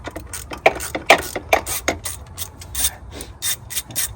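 A part being tightened with a tool during a Powerstroke diesel DPF and EGR delete: a run of close, sharp metallic clicks and ratcheting rubs in quick uneven bursts, with no talk.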